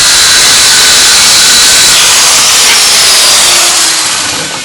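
Saw ripping through yew or ash wood for a Windsor chair, a loud, dense, continuous cutting roar close up that eases slightly at the end.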